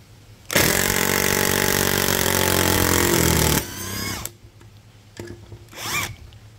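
Tekiro cordless brushless impact driver spins up in a loud, steady high-pitched whir for about three seconds, then winds down, followed by a couple of shorter, fainter bursts.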